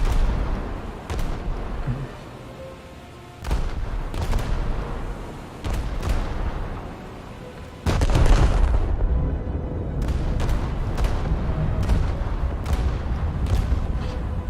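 Warship secondary guns firing high-explosive rounds in a naval battle video game, a series of sharp, booming discharges at irregular intervals, each followed by a rumbling tail, loud and close.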